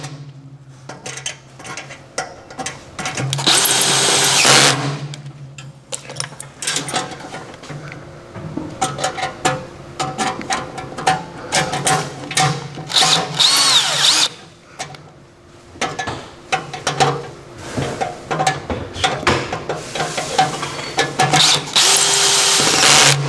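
A power drill tightens bolts on a Recteq Deck Boss 800 pellet grill, with repeated loud bursts of whirring and ratcheting separated by brief pauses and some metallic clinks, with no talk.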